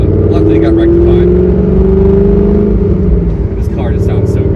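A Chevrolet Corvette C5 Z06 engine drones loud and close as it drives, its pitch climbing slightly as it revs, with a voice talking over it.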